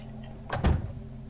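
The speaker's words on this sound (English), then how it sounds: "doors are opening and closing automatically." An automatic door in The Dark Mod, a stealth game, slides open and shut with a brief whooshing rush ending in a low thud, heard close and alone over a faint ambient hum.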